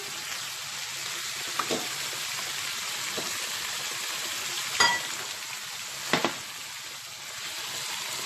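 Garlic sizzles and fries steadily in a pan with green chili and yellow pepper, a constant crackling hiss with a few louder clinks of stirring.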